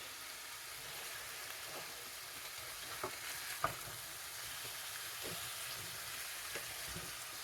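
Orange chicken stir fry sizzles steadily in a pan while being stirred, with a few soft scrapes and clicks over the constant frying hiss.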